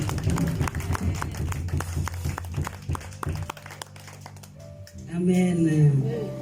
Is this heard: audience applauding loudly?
yes